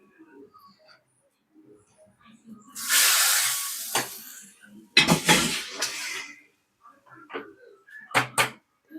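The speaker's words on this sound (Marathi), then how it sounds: "तर मी डाळीत घालत आहे." Hot tempering poured into cooked dal for hotel-style dal tadka, a sudden loud hissing sizzle that swells for about a second and fades, followed by a few sharp clatters and knocks nearby.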